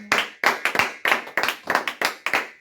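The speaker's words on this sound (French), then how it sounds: "nous acclamons le Seigneur" A church congregation claps in praise, a quick irregular run of sharp, loud hand claps filling the room without pause, with a faint voice briefly underneath.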